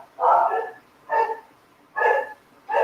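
A dog barks four times at a steady, evenly spaced rhythm, moderately near and clear against a quiet background with no talking.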